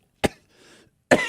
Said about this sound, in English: did you just cough up a hairball?